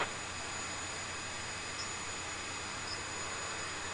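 Aircraft engine in the Battlefield 2142 video game gives a steady, loud, unbroken jet-like roar that holds at an even level throughout, with no voices over it.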